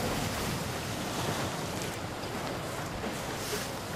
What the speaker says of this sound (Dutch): Maar het waait pittig